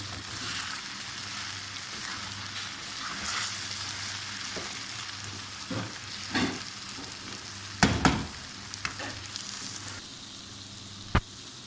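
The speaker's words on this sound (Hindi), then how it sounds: "अब इसको टमाटर गलने तक पकाएंगे।" Pendiyan cooking with tomatoes in a pan give a continuous close sizzle and frying crackle, with a few sharper stirring knocks and clatters toward the end, no voices.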